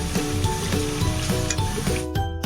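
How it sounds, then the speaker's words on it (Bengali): Ginger-garlic paste sizzles steadily in hot oil while a spoon scrapes through it in a regular rhythm of strokes, close and continuous, with one louder scrape near the end. "আমি প্রথমে এটাকে আরও 2-3 মিনিট আদা রসুনের কাঁচা গন্ধটা চলে যাওয়া পর্যন্ত এটাকে আমি নাড়িয়ে নেব"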